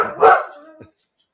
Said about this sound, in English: you're about to hear some barking.